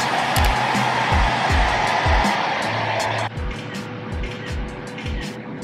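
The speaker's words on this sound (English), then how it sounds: "So now I'm just gonna dry my hair" A hair dryer blows steadily while drying hair, a loud whooshing roar that drops in pitch and level partway through as the setting or angle changes, with soft bumps and handling noises underneath.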